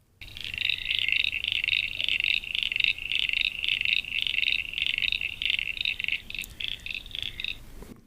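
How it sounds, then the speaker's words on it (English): Common eastern froglets calling in a rapid, steady series of short, high, cricket-like croaks, close and loud, carrying on continuously for several seconds before stopping. "common eastern froglets. So there we go. And they sound like this."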